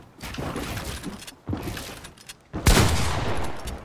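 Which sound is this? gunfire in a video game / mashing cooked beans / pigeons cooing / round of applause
gunfire in a video game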